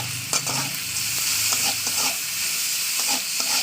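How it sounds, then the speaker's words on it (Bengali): Shrimp and potatoes frying with salt and turmeric in a pan, a constant bright sizzle broken by repeated spatula stirs and scrapes, close and unvoiced. "ছোটো চামচ এক চামচ হলুদ দিয়ে ভালো করে এটা ভাজা করে নেবো"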